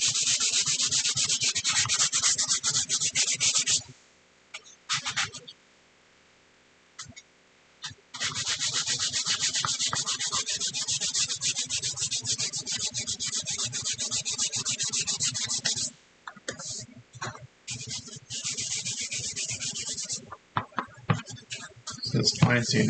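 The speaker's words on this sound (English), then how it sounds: "This fine sanding sponge is like a 400 grit sanding paper" Fine sanding sponge, about 400 grit, rubs over primer on a 3D-printed part in fast, steady back-and-forth strokes, with two short pauses filled by faint knocks and handling sounds.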